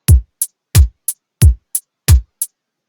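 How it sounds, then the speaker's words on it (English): Basic drum machine pattern from a Soundtrap pattern beat maker: four booming kick drum hits alternating with short, crisp snare hits in a steady loop, clean and dry with silence between strikes. "I got the beginnings of a pretty good basic beat in Pattern Beat Maker"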